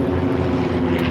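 Four airplanes flying overhead while practicing for an air show, heard at a Corvette car gathering in Lodi as a steady, loud propeller drone with no talk.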